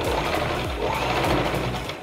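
Sewing machine stitching tucks into a blouse, giving a steady close mechanical rattle of needle and feed over two seconds.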